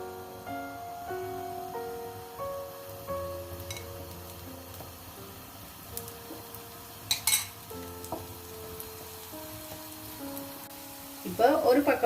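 A dosa frying in sesame oil on a pan gives a faint, steady sizzle beneath low tonal background music, with a few clinks of a utensil and a louder crackling burst near the end.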